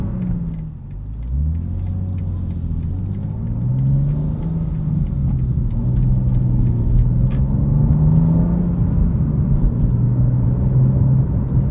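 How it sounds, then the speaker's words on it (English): BMW M2 with the S58 engine in sport mode, cruising under steady load with a low rumbling drone whose pitch rises and falls, a few small off-throttle burbles and pops, heard from the cabin without talk. "Hear what this sounds like in sport mode. You get a few little burbles off throttle."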